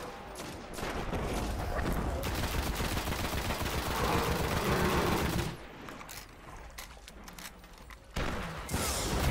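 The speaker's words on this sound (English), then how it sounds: "Keep shooting." Gunfire in the shooter Destiny: bursts of rapid shots and fusillades that drop off midway, then return as scattered shots, with a voice speaking over parts of it.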